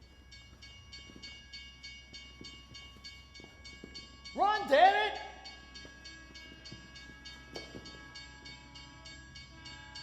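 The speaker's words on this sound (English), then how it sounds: "Hey, train's coming." A train approaches and passes kids near a street crossing, a steady rumbling drone with sustained tonal hum throughout, while a loud shouted voice breaks in midway.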